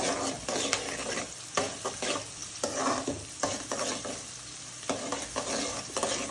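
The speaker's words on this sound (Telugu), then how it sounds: "ఇప్పుడు గ్రీన్ చిల్లీస్ వేసుకొని కలుపుకోవాలి బాగా." Red and green chillies fry in a pan while a spoon stirs them in repeated scrapes over a constant close sizzle, with no voices heard.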